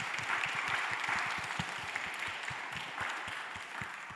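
Applause from a workshop audience at the close of a statistics conference session, an even, sustained patter of many hands heard from within the room.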